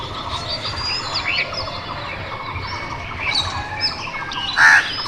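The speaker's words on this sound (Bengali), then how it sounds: "পাখিদের কিচিরমিচির ডাক" Morning birds chirp and tweet in a busy outdoor chorus, a mix of quick overlapping calls with a sharper squawk standing out near the end.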